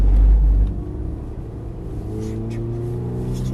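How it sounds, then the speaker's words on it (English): A race car at an SCCA time trial on the Hallett circuit slows under braking and drops through the gears. A loud, steady engine rumble with a droning tone runs close and continuous throughout, heaviest at the very start. "Remember to brake at 2 and downshift."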